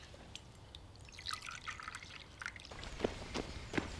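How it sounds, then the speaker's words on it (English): Coffee poured into a cup in a domestic kitchen, a quiet liquid trickle with a few small drips and light clinks of crockery, close and soft, with no voices over it. "Just pour the coffee."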